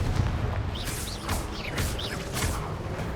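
Confringo fire spell blasts go off in Hogwarts Legacy during a dungeon fight, several whooshing bursts in steady rhythm over a constant low rumble of battle noise.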